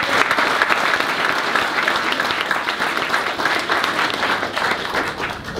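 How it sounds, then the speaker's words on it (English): A press conference audience claps for boxer Gavin Rees, a dense, loud round of applause that holds steady for several seconds before tapering slightly at the end. "Give a big round of applause for Gavin Rees."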